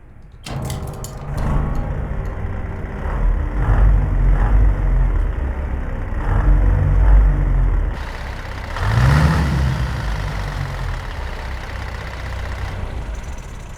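A truck engine in a truck driving video game idles and revs, swelling and settling in low rumbling surges, with a rising rev near the end, heard alone without talk.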